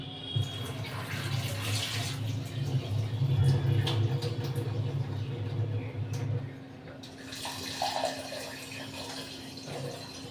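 Tap water running while rice is washed, a continuous splashing flow that swells in the middle and then eases into lighter trickling and rinsing sounds near the end.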